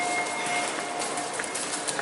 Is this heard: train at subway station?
yes